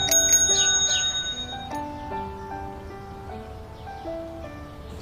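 A bicycle bell rings several times in quick, close, bright strikes near the start, its metallic tone decaying and ringing on behind quiet background.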